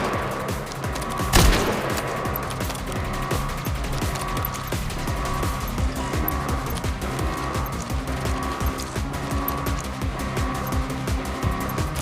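Steady rapid gunfire in the open-world crime game Gangstar Mirage City, a continuous dense crackle layered over engine drone and background game noise, with one sharper blast near the start.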